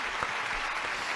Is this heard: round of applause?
yes